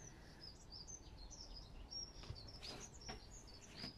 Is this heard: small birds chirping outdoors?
yes